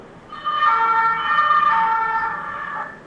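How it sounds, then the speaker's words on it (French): A fire engine siren passes outside, a loud, steady wail that swells and then fades slightly over a few seconds, with no talking. "C'est les pompiers ça."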